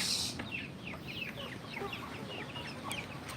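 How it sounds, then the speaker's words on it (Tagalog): Rhode Island chickens cluck and chirp in a busy farm flock, with many short overlapping calls at moderate distance over a soft background hum and no talk. "ayan po yung mga Rhode Island na balok"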